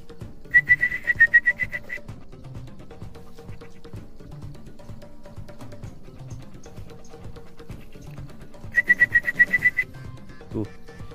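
A hungry plaintive cuckoo chick calls in two bursts of rapid, high, piping notes, one near the start and one near the end, with a quiet pause between them and no talking.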